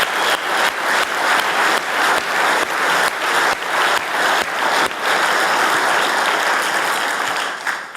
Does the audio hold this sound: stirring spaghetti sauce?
no